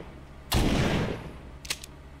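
Shotgun blast in The Walking Dead: Saints & Sinners, one loud close boom with a short rumbling tail, followed by a couple of quick mechanical clacks.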